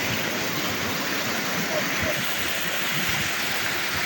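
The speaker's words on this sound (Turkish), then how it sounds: "suyun sesini duyuyorsunuz" Water rushes at the Atatürk Dam waterfall in a loud, unbroken roar that stays steady throughout.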